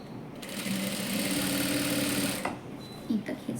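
A sewing machine runs in a fast, steady burst for about two seconds while stitching elastic onto palazzo pants, close and clear, then stops, leaving a few soft handling noises and someone speaking.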